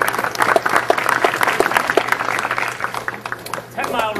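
A crowd of alumni at a Ten Mile River scout event claps together, a dense, continuous burst of applause at close range with a voice heard over it near the end.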